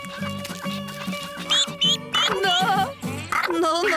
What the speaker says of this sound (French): Eh bien, Crunchy, ce petit canard te fait peur?